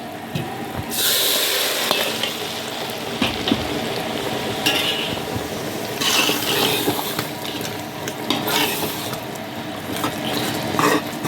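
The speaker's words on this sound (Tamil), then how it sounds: "தக்காளி நல்லா பொரிச்சு வந்துடுச்சு. அதுக்கப்புறம் நம்ம வந்து இந்த சிக்கன் பொரிச்ச ஆயில் யூஸ் பண்ணிக்கலாம்." Tomatoes fry in hot oil for biriyani, a steady close sizzle with stirring scrapes and brief louder spatters throughout.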